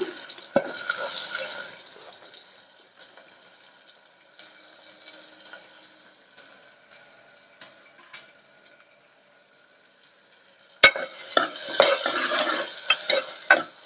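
Thinly sliced onions dropped into hot oil in a pressure cooker for mutton curry: a burst of sizzling and stirring clatter opens, fades into quiet scattered scraping, then a sharp clank brings a fresh loud sizzle and stirring.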